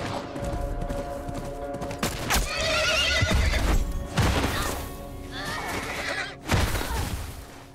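A horse whinnies loudly in the video game The Last of Us Remastered, its neighs mixed with clip-clopping hooves and sharp bursts of gunfire.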